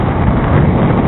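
Steady, loud wind in Iceland buffeting the microphone, a continuous low roar with no pauses, cutting off abruptly at the end.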